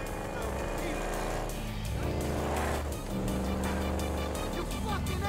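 A powerful motorcycle engine and tires in GTA V, a continuous engine roar mixed under a music track, with voices speaking over it.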